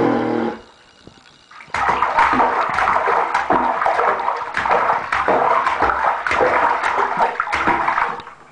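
A young child splashes in bath water, loud messy bursts of sloshing and splatter running almost continuously after a brief quiet pause near the start, close and without talk.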